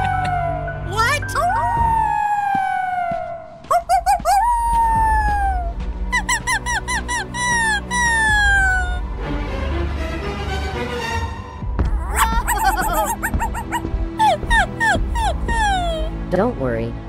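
Puppies in the Roblox Brookhaven video game whimper, yip and squeak in a series of high, sliding whines with short breaks, loud and close, while a person talks at times.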